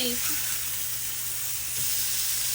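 Steaks fry in a little oil in a pan, giving a steady, close, loud sizzle and hiss that runs continuously without pause.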